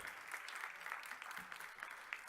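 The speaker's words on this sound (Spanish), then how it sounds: "vamos a recibir con un fortísimo aplauso al doctor Ezequiel Sabor, secretario de Trabajo de la Nación." Audience applause welcoming the Argentine national Secretary of Labour to the stage at a conference, a steady, dense clapping that holds at an even level throughout the short stretch.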